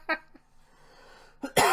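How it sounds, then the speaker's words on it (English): A few short, sharp coughs, close and loud, with a brief pause between them and a harsher burst at the end. "right now it's only laughing that triggers my cough for some weird reason."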